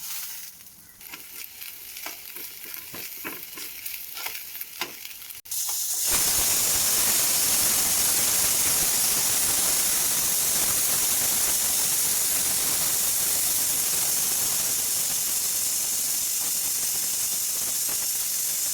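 Grated coconut and curry leaves hit hot coconut oil with a sudden loud burst of sizzling, settling into a steady, dense frying hiss and crackle close by after a few seconds of quieter pan sounds.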